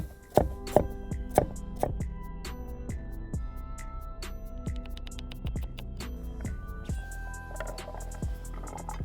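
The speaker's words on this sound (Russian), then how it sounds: "Морковь нарезаем крупным кубиком." A knife chops carrots into large cubes on a cutting board, crisp close taps in irregular runs, quickening into rapid bursts toward the end.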